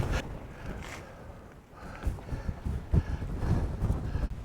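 Wind gusts across the summit of Slieve Binnian in the Mourne Mountains, buffeting the microphone. A low, rumbling roar swells and eases unevenly throughout, with no other sounds.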